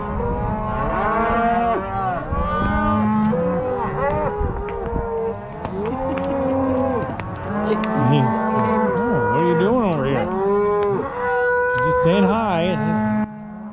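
Cattle moo repeatedly and loudly during a Montana ranch round-up at shipping time, overlapping long bellows from several animals in a continuous chorus with someone speaking faintly underneath.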